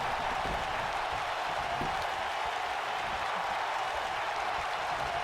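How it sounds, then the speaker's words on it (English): A crowd applauds in a WWE 2K wrestling match set in San Antonio, a dense steady wash of clapping and cheering that fills the whole stretch at an even level. "The crowd here in San Antonio appreciates the effort both women are putting."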